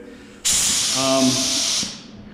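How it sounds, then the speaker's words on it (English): A paint spray gun at about 28 PSI bursts on with a loud, steady broadband hiss, holds for about a second and a half, then cuts off; a faint voice murmurs underneath. "I like to spray around 28 PSI, right about there."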